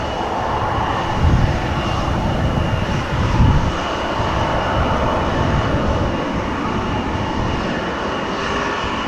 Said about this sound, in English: KLM flight 1817 to Frankfurt already lined up, ready to go. Embraer 175